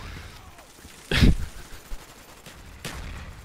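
Gunfire in the video game Call of Duty Black Ops: a sharp loud burst of shots, then a fainter second burst a little later over low game background noise.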